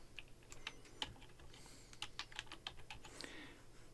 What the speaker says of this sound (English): Here you can type in any text